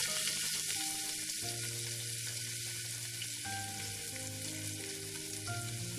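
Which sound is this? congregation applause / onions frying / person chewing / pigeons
onions frying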